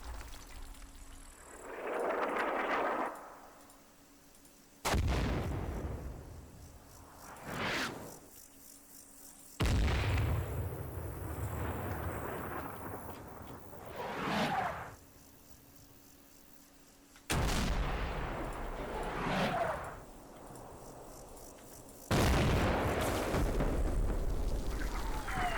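Artillery shells from a fire mission in the Combat Mission war video game land in a series of heavy explosions, each sharp blast followed by a long rumbling roar and debris fall, repeating about every five seconds, loud and alone.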